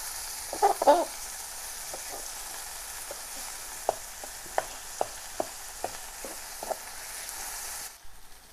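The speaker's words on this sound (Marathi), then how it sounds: "आता मिरची कांदा आणि टमाटा हे एकत्र चांगले मस्त हलवून घेऊ" Green chilli, onion and tomato frying in a pan for egg bhurji, a soft steady sizzle under a series of sharp spoon clinks and scrapes, then a sudden stop.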